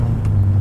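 Steady low idle rumble of a 1977 Toyota Celica's 18RG twin-cam engine, a constant close drone without pauses or voices.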